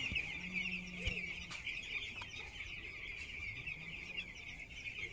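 Chickens on a poultry farm clucking and calling in a steady, moderately close chorus, with a few short louder calls standing out above the constant flock noise.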